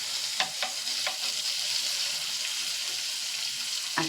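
Poppy seed paste, white mustard paste and green chillies frying together in a pan, giving a steady soft sizzle with a few faint stirring clinks and scrapes.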